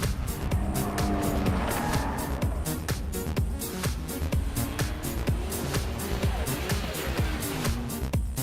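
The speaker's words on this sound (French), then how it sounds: "Quant au bruit délivré par l'échappement titane, il est tout simplement monstrueux." Nissan Skyline GT-R R34 NISMO Z-Tune with titanium exhaust driven hard on a mountain road, loud engine roar rising and falling through gear changes with tire squeal and a dense, continuous racing snarl throughout.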